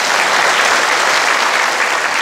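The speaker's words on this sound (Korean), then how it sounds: "박수로 좀 맞이해 주시기 바랍니다" Audience at a city hall town meeting with the mayor, clapping loudly and densely to welcome a youth panelist, a steady close wash of applause with no voices.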